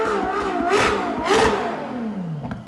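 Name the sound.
Ferrari SF90 engine revving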